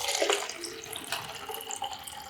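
Water runs steadily into a sample bottle as it fills toward the shoulder, a close, continuous pouring and gurgling with no talk, taken while testing Berkey and AquaTru water filters.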